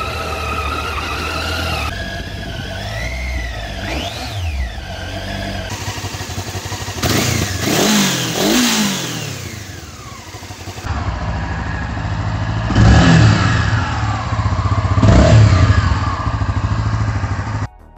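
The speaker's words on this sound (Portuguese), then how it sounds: "É o famoso som mecânico do motor. É o som da máquina" Motorcycle engines such as a Triumph Tiger 800 and Honda CB500 producing a mechanical whistle, with rising and falling whines over idling and revving, loud and close, in several separate passes.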